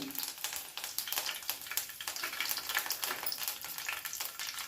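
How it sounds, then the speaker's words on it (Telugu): Cumin seeds and curry leaves crackle and sizzle in hot oil, a busy spattering hiss with quick pops throughout, fairly quiet and heard alone without voices. "జీలకర్ర నెక్స్ట్ కరివేపాకు వేస్తున్నానండి"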